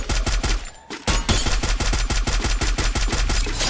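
Rapid automatic gunfire in the video game Free Fire, a loud steady burst of closely spaced shots with a brief pause near the start before the firing resumes and continues.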